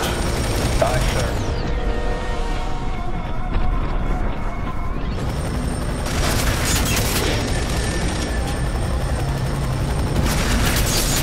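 A helicopter roars in the video game F.E.A.R. 3, its loud rotor din running throughout, mixed with bursts of gunfire and booming explosions.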